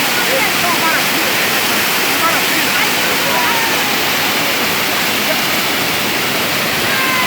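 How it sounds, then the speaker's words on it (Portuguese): A waterfall roars as a loud, dense, unbroken rush of falling water, steady from start to finish and close at hand, with no other sound standing out. "Ô, seu Nádio, uma pergunta para o senhor sobre essa cachoeira que está no exato momento aí."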